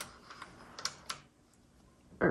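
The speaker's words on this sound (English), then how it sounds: "Now I'm going to move the carriage, and we're going to move it to the left." Carriage of a 1939 Remington Model 1 typewriter shifted by hand, giving a few light mechanical clicks and taps, then a louder closing clack at the end, close up with no voices.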